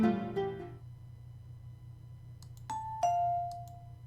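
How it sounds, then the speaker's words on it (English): In a video game, a two-tone electronic doorbell chime fades out, then a second ding-dong rings clearly against a low steady hum. "Did someone ring the doorbell?"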